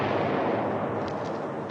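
Artillery fire in a 1951 World War II war film, heard as a continuous dense rumble of distant barrage with no clear separate blasts, steady and fairly loud throughout.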